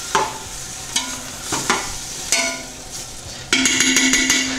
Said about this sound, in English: I'm going to add my tomatoes. Mix these all together.